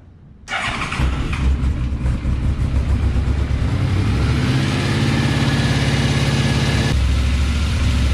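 A 2006 Yamaha Royal Star Tour Deluxe, a liquid-cooled 1300cc V4 shaft-drive motorcycle, cranks briefly and fires up quickly, then settles into a steady, loud, close idle that runs to the end.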